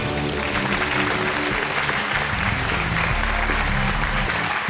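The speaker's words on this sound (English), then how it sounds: "Round of applause for our mystery guest." A studio audience at a comedy quiz show applauds a mystery guest with dense, sustained clapping that fills the room from start to finish, loud and continuous with no talking.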